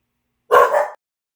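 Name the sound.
dogs barking indoors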